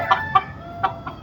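A few short clucks from chickens nearby, four quick calls spaced unevenly over a second.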